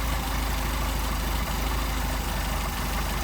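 A Mercedes 190SL engine idles with Solex carburetors under adjustment, a loud, steady, close low rumble with slight unevenness as it stumbles, and no talk.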